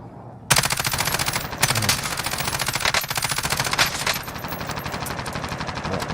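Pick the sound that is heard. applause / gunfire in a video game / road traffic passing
gunfire in a video game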